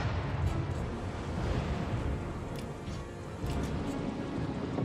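A torpedo strikes a warship in the naval game World of Warships Legends, bursting into a dense, rumbling explosion that rolls on loud and low for several seconds, with crackling debris layered over the sustained boom.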